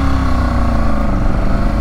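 A motorcycle engine hums steadily and loudly as the rider rolls along and shifts gear on a community ride through Bulverde, Texas, a continuous close drone with no talk.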